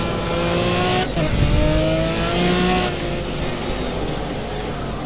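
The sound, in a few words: GT3 race car drifting with tire squeal in a racing game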